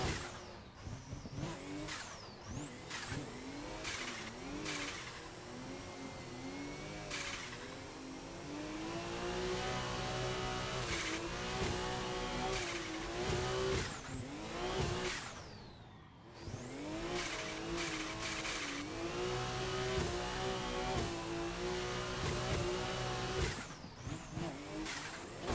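A drifting car in a video game, its engine sound swapped from the RB, revs hard and rises and falls continuously with tire squeal throughout, loud and alone apart from a brief lull midway.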